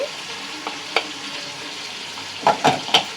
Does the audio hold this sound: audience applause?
no